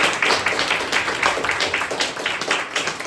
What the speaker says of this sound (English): So we give you a round of applause.